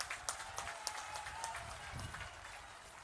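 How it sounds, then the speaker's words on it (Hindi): A crowd claps at an outdoor political rally in Katwa, West Bengal, faint and distant, with scattered hand claps in an irregular patter. "आपकी ये तालियों की गड़गड़ाहट"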